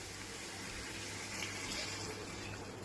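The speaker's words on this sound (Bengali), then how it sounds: "এরপর গরম জল দিয়ে ফুটিয়ে নেব।" Hot water poured into a pan of sautéed soybean curry, a steady rushing gush of liquid lasting a few seconds, close and even.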